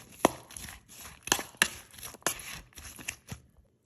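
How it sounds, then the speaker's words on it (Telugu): A knife chops mint and other ingredients for a spicy egg omelette, giving about eight sharp, close cuts on a board at an uneven pace, with soft rustling between them. "వీటినన్నింటినీ చిన్న చిన్న పీసెస్గా కట్ చేసుకోవాలి"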